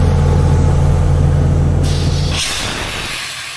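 Loud, steady high-pressure hiss of a sandblaster spraying media over a car body panel, roaring continuously before cutting out and fading near the end.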